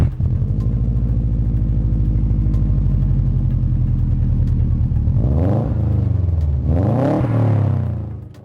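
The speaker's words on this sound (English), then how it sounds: "the version 7, 8, 9 and 10 Imprezas with their distinctive rumble unlike any other engine" Subaru Impreza boxer engine idling with a deep, steady, throbbing rumble, then revved twice, each blip sweeping up in pitch and falling back, close and loud with no talk.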